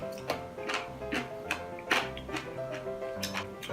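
Crisp, crunchy chewing of raw sea squirt close to the mic, with repeated moist crackling bites in an uneven rhythm and no talking.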